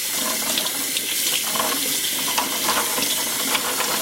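Tofu being rinsed under running tap water, a loud, continuous splashing stream into a sink that holds steady throughout with no talking.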